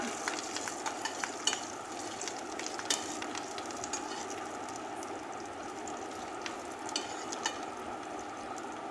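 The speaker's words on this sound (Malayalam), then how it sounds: "നന്നായിട്ടൊന്ന് ഇളക്കി നമുക്കതിൻ്റെ പച്ചമണമൊക്കെ ഒന്ന് മാറും" A spice mixture fries in a pan with a continuous low, even sizzle, broken by scattered light clicks and scrapes of a spoon stirring it, close and moderately quiet.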